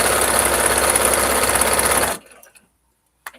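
Domestic sewing machine stitching fabric, a steady fast mechanical whir running loud for about two seconds, then stopping abruptly into near silence with a faint click at the end.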